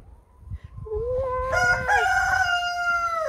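A rooster among its hens crows a full, loud cock-a-doodle-doo nearby. The call rises sharply into a long, strained, wavering note that holds to the end, with a faint cluck and soft rustling just before.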